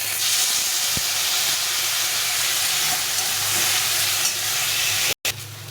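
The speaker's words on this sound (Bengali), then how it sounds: "উচ্ছে আলু আর পেঁয়াজটা ভাজা ভাজা হয়ে গেছে" Bitter gourd, potato and onion frying in a pan give a steady, close hiss and sizzle that runs without a break, cut off by a brief silence near the end.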